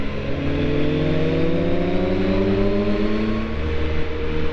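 Loud BMW motorcycles passing close on an Alpine road in France, a continuous engine drone with rising and falling harmonic tones that sweep through the whole stretch at steady high volume, no voices.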